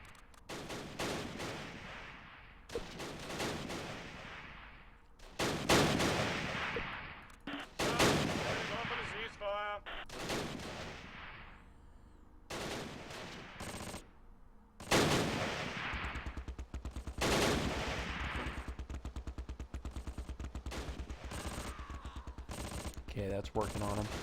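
Bursts of gunfire and answering return fire crackle through the WWII tactical game Close Combat Last Stand Arnhem, with loud broadband volleys, brief gaps and a steady low hum, while someone speaks between shots.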